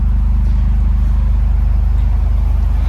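A deep, steady exhaust rumble from a 2025 Toyota Corolla GR with a 1.6L engine idling nearby, loud and throbbing with a regular low pulse, no talking.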